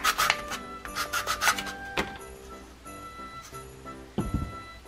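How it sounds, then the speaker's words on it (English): Quick rasping strokes of sandpaper by hand on wood, close and fairly quiet, coming in short bursts with pauses between them. "I'm just going to give the bottom a little sanding"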